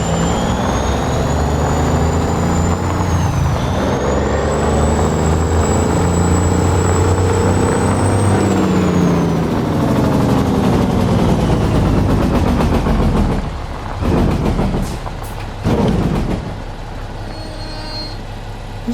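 A modded truck engine in American Truck Simulator runs loud and steady, its pitch climbing and holding, then sliding down and breaking into rougher pulses near the end, with no talk over it.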